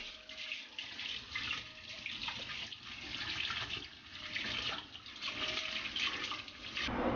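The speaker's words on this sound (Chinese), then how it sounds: "先用清水简单的清洗一遍" Tap water runs steadily over pig intestines being rinsed in clear water, a continuous close splashing flow with no talk.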